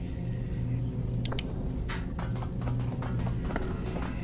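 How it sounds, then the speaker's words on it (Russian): Stomping footsteps in the video game Mirror Forge, a series of fairly quick thudding steps with some sharp clicks over a low hum, moderately faint. "Я опять слышу этот топот."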